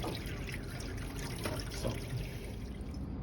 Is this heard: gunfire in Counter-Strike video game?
no